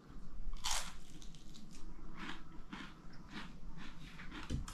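Crunchy food chewed close to the mouth, with repeated crisp bites and crunches spread through a steady background of room noise, no talk over it.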